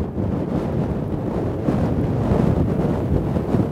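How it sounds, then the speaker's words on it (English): Strong wind on open ice while ice fishing, buffeting the microphone in a continuous heavy rumbling roar with no pause. "Oh yeah, it's windy."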